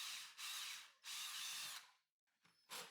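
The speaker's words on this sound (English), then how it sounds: "Now, once through the first pilot hole, I used a level on the drill to make the outer hole." An electric drill bores a pilot hole through a wall for a wood pellet stove installation, sounding as a few close, whining bursts of drilling separated by brief pauses and stops, with no voices.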